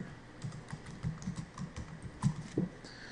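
Typing on a computer keyboard while entering a word, with quick, soft, irregular key clicks up close and a few louder taps near the end.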